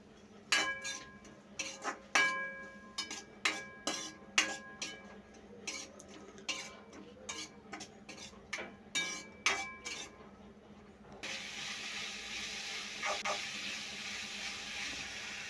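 Tomato and onion sautéing with salt in a pan, heard as a series of sharp utensil clinks and scrapes against the pan at an irregular rhythm, followed by a steady soft sizzle near the end.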